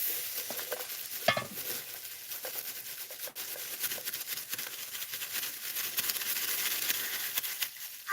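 Meat frying and being stirred in a pan in a home kitchen, with steady sizzling and scraping that carry on throughout and stay fairly faint and close.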